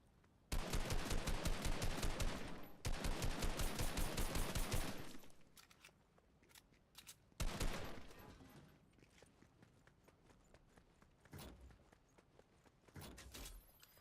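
Automatic weapon fire on a custom Fortnite UEFN map comes in two long, rapid bursts of evenly spaced shots, then a shorter burst and a few isolated, quieter pops and rattles against near silence.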